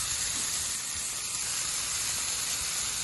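Onions sizzle on an outdoor flat-top griddle, a steady close hiss of frying that runs without a break across the whole stretch with no one talking.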